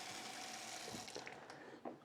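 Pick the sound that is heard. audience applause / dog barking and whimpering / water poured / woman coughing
water poured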